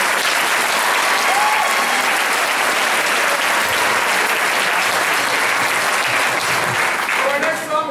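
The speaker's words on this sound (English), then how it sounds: "All seniors, give them a big round of applause" Audience at a high school band's final spring concert gives loud, sustained applause for the senior players, a thick roar of clapping mixed with cheering that holds throughout before easing slightly at the end.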